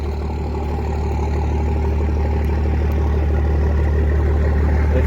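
A first-generation truck engine with a fuel problem idles nearby, giving a loud, steady, low rumble that holds constant without a break.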